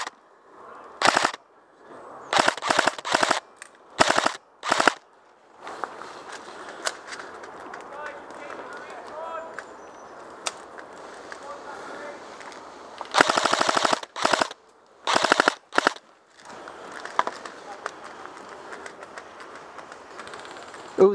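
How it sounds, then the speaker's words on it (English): Bursts of rapid gunfire at an outdoor range near a bunker ring out in repeated volleys with single shots between, while people talk intermittently over the shooting. "Can you see my rounds when I shoot?"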